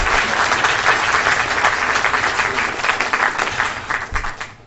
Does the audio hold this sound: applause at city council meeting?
yes